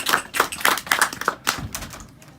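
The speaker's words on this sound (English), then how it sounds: "Ladies and gentlemen, a big round of applause for one of the castle favorites, Jesse D." A small audience gives a short round of applause for a comedy performer, with sparse, scattered claps that fade quickly.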